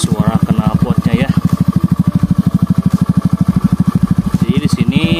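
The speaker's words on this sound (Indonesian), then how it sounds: "Nah ini adalah suara knalpotnya ya." A Honda Scoopy FI with a TJM Project aftermarket exhaust and no dB killer idles loud and close, its rapid, even exhaust pulses thumping steadily throughout.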